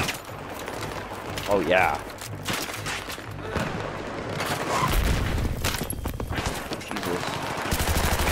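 Light machine gun fire in Battlefield 3 rattles in bursts amid booming explosions and battle noise, with a player talking over the gunfire.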